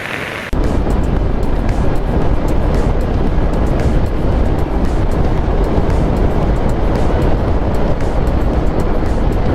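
Honda PCX 160 scooter held at top speed, with a loud, steady roar of engine and rushing wind filling the whole stretch after a brief quieter start.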